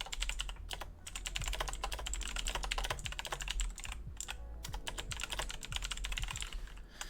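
Rapid, close clicking of keys on a computer keyboard, a steady burst of typing with brief pauses, alone and fairly quiet.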